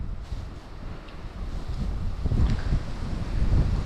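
Gusty wind roars steadily into the microphone at a lake, building and rumbling in low buffeting bursts outdoors, with no voices.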